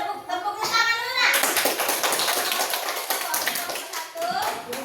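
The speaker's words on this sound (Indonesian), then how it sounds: "Tepuk tangan dulu," Children clapping their hands in a classroom, a burst of brisk overlapping claps following a voice, with chatter mixed in.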